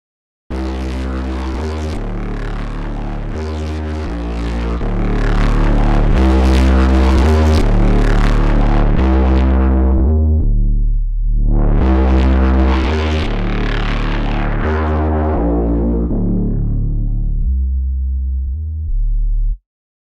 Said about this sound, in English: This has got some tasty drive on it, so I can filter off the top end whilst adding some more distortion.